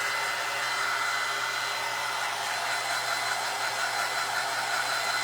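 A hair dryer blows steadily on a fabric ring holder craft, a loud, constant close whooshing hum with no breaks and no talking.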